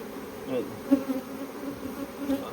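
Honey bees hum in a steady, low buzz around an open hive at a beekeeping class, close and continuous with slight swells, no talking.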